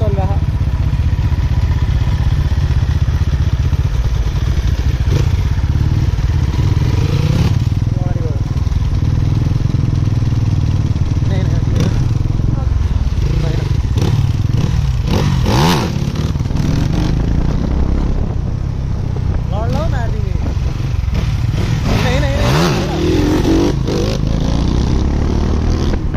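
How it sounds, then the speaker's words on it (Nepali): A motorcycle is ridden and revved nearby, its engine droning loudly and steadily with rising and falling revs and rattling clatter, while voices murmur in the background. "साथीले बाइक उडाउँदै हामी हेर्दै भिडियो बनाउँदै"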